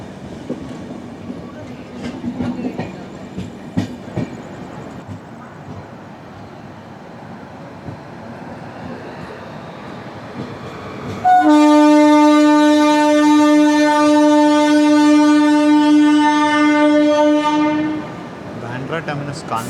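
Sampark Kranti express pulling into Kota Junction: rumbling rail noise and faint clatter, then a loud, sustained horn blast of about six seconds that cuts off abruptly.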